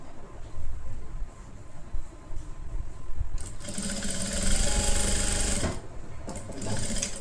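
A sewing machine stitches a halter neck kurti, starting with faint clicks, then a loud, close, continuous whirring run of stitches, a pause, and a short final burst.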